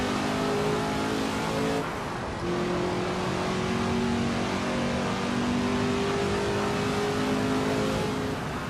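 A Ford GT40 engine in Assetto Corsa at Spa screams near its rev limiter in a loud, steady, close drone, with a brief dip around two seconds before the high wail returns. No one speaks.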